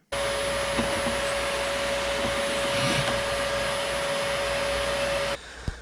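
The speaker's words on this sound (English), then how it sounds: "I'm going to vacuum it out anyway" A steady, loud vacuum whine runs continuously for about five seconds with a constant high-pitched tone while sucking out a motorcycle gas tank, then cuts off abruptly near the end.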